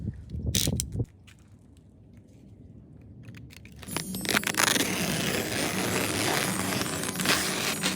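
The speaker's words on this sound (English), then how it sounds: "Let's cut it open and see what's inside." A blade slices open a FedEx parcel box of overnight car parts, with a sharp rattle and clatter first, then quieter fiddling, then a loud continuous tearing and scraping of cardboard up close.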